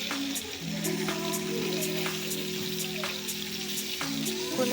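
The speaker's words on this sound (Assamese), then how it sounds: "এয়া দেখিছে মই ভাজি আছো মাছখিনি" Pieces of fish fry in hot oil in a pan, giving a soft, continuous sizzle with scattered crackles and a faint steady hum beneath.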